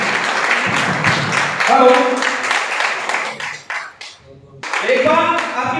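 Audience clapping at an Ayurveda product program in Hapur, Uttar Pradesh, a brief burst of hand claps mixed with a speaking voice, dropping away then returning as a speaker talks.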